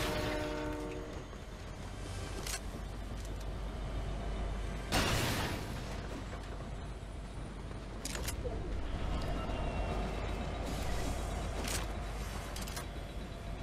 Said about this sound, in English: Can we not enter the train?